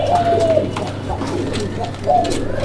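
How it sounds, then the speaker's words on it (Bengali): Raj-golla pigeons cooing, soft low coos repeating close by over a steady background hum. "ভরপুর ডাকের কবুতর"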